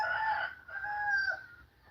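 Chickens sick with a respiratory illness crow loudly twice, close by, with a hoarse rooster call rising and holding before a low cluck at the end, with no talk.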